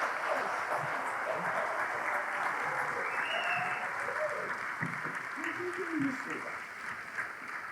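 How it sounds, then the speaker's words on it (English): An audience at a book launch event applauds as a guest is welcomed on stage, a full, sustained roar of clapping that holds steady and then begins to thin toward the end. "A round of applause, please, for Mr. Tony Davidson."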